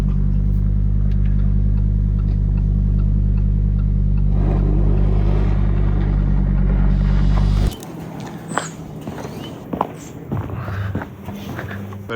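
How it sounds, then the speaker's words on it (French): A car engine in the GTA video game revs loudly as the car drifts, a strong steady drone that cuts off abruptly and gives way to scattered thumps and lighter noise. "Bah lui, il nous fait des drifts."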